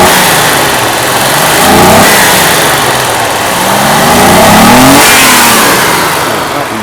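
A Mercedes W126 280SEL's engine, just back from a fuel distributor repair, revs hard and loud up close, its pitch swelling and falling in several long pulls with no one speaking.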